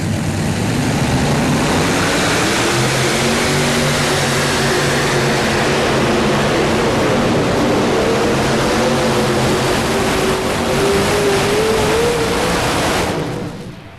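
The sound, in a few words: tractor pull tractor engine running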